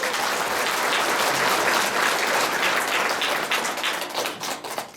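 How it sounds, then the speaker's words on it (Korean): An audience at a Korean poetry recitation gathering applauds in thanks: dense, steady clapping from a moderately sized crowd that thins out and becomes patchier toward the end. "감사의 박수를 보내드리겠습니다"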